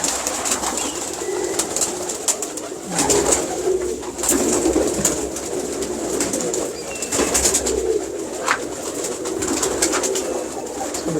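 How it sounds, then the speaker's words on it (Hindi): Almari-breed pigeons coo continuously at close range, soft repeated throaty calls layered over one another with faint rustling, and no talking. "ये देखें जी, ये अलमारी वाले कबूतर हैं, बड़े ही शानदार, बड़े खूबसूरत कबूतर हैं"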